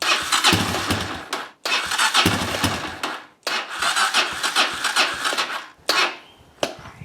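A Honda CRF230 dirt bike with a bogging, stalling fault idles roughly, its engine running loud and close in rough bursts that cut out briefly and restart several times.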